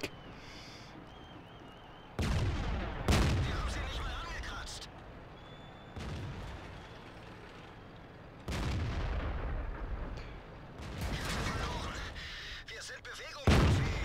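Tank cannon fire in World of Tanks during a tank football match: several heavy booming shots with rumbling tails, spaced apart over steady game background noise, with a player talking over parts of it.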